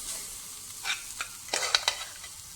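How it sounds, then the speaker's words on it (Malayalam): Sweet potato leaf thoran with cooked toor dal is stirred in a pan, several quick scraping strokes clustered in the second half over a faint sizzle, close and clear, with no talking. "തോരൻ പരിപ്പിട്ട് ഇതൊന്നുകൂടി ഇളക്കി കൊടുക്കാം"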